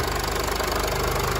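A 2014 Mercedes-Benz GLK250 BlueTec diesel idles close by, its steady, even rhythmic clatter and low hum continuing unbroken throughout.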